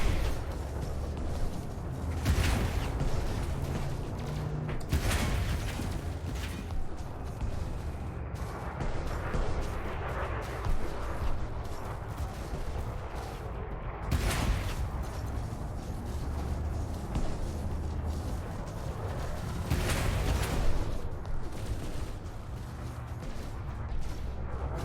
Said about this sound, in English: I hate it when I fire all these cannons and his hull doesn't even get touched.